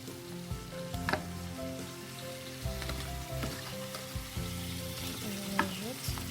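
Potato and yam soup is stirred in a pot while it sizzles and bubbles, a steady hiss with repeated scraping strokes and soft knocks at an even, unhurried rhythm, close and fairly quiet, no talking.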